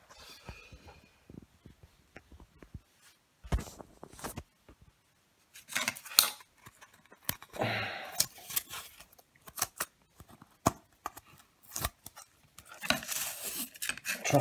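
A magnetic turbine model held together with electrical tape being taken apart by hand: scattered close clicks, scrapes, tape rustling and small part handling in irregular bursts with quiet gaps between.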